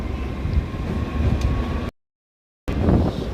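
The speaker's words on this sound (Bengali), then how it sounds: "বাট ট্রেন তো ছুটে চলেছে তার মতনই।" Kalka–Shimla toy train on its Himalayan mountain run, giving a steady, close rumble of wheels and carriage noise that cuts out briefly to silence and then resumes.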